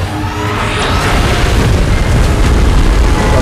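A massive rumbling explosion from Mechagodzilla's beam blast in the PUBG Mobile video game, loud and sustained with dense low boom filling the whole stretch.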